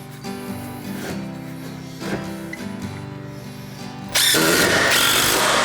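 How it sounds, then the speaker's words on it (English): An impact driver drives a screw through a board into hardwood during a basement renovation, a loud, close burst of rattling motor noise kicking in abruptly near the end after quieter handling sounds. "We're temporarily screwing this in place up against the straight edge"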